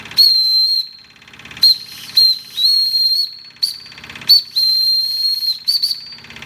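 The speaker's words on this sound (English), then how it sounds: "Sound the whistle a bit here." A Wilesco D20 model steam engine's shrill, high whistle sounds in several bursts, some long and some short, separated by brief hissing gaps.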